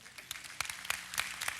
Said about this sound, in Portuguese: É um bom lugar para aplaudir